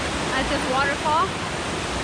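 A loud waterfall roars as a dense, steady wash of water noise close by, with a few faint voices barely audible beneath the constant rush.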